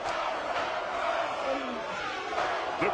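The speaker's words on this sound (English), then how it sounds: "The crowd is turning." A large boxing arena crowd at the Tyson vs Holyfield rematch yells and roars continuously, a dense wash of voices with occasional louder surges and commentary underneath.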